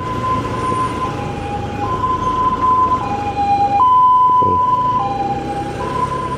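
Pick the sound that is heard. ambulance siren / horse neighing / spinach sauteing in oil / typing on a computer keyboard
ambulance siren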